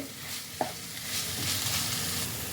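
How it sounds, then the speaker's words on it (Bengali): Paneer stuffing for Kashmiri stuffed aloo dum is stirred in a pan over a low flame: a steady soft sizzle with scraping strokes and one sharp clink of the spoon early on. No voices. "পনিরটাকে ভালোভাবে মিশিয়ে নিতে হবে"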